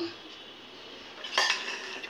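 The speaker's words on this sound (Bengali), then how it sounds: "চলো এবারে ভাত বেড়ে দিচ্ছি। এটা সাথীর থালা।" Rice is served onto a metal plate with quiet scraping, then one brighter clink of metal on metal midway, all soft and close in a quiet room.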